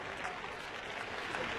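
Steady applause from a baseball stadium crowd in Japan, a continuous wash of clapping at moderate distance with no voices standing out.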